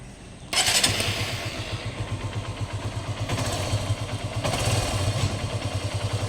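A 2017 Honda CB Unicorn motorcycle engine catches after a short quiet moment, then idles close by with a loud, steady, throbbing exhaust beat and light mechanical clatter.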